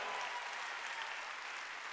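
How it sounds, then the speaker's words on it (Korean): A church congregation at a Sunday worship service applauds, a steady dense wash of clapping from many hands throughout, heard at a moderate distance. "박수 치라 이게야."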